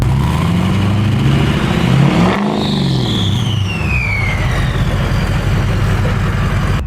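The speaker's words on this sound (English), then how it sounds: "we are revving it up for a sec here" A parked car engine fitted with a cold air intake rumbles close by, rising in one brief rev with a whine that falls away before it settles back to a throaty idle.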